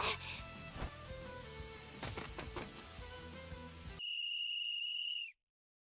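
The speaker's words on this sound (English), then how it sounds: "the whistle sounds to signal the end of the match" In the Granblue Fantasy video game, a referee's whistle blows one sustained, shrill note to end a match, cutting in after busy clattering game effects and then stopping abruptly.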